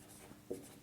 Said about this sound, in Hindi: लिखते हैं सबसे पहले